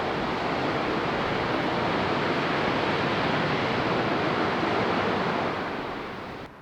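Pacific surf breaks below sheer cliffs on California's Lost Coast, a constant, loud roar of rushing water and wind with no distinct individual waves and no voices.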